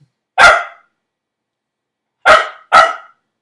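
A dog barking indoors, three loud, clear barks with nothing else heard: one single bark, a long pause, then two quick barks in a row.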